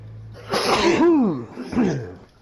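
A person sneezes loudly and close, a big single sneeze followed by a smaller second one, with nothing else heard around it.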